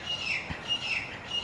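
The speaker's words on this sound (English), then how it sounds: "That bird is so noisy." A small bird chirps in a garden, a faint, thin and fairly continuous twittering with short repeated calls, heard from a distance over a quiet background with no talking.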